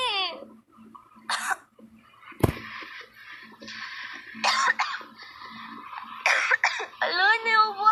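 A person coughs and clears their throat after choking, several harsh bursts scattered among short stretches of talk, close to the microphone.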